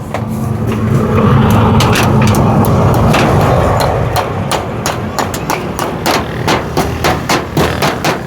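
Hammering in a home vegetable garden, a series of sharp, loud, evenly spaced knocks over a low engine-like hum that fades after the first few seconds.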